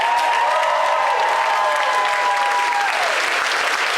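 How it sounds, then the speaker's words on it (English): Steady, dense applause from a crowd at a comedy show at DragonCon 2022 fills the whole stretch, with a faint whistle-like tone gliding over it. "Round of applause for Bruce Wayne."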